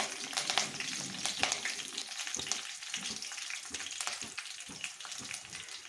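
Three garlic cloves sizzle steadily in hot oil in a pan while a spoon stirs them lightly, adding soft scraping taps over the constant frying hiss.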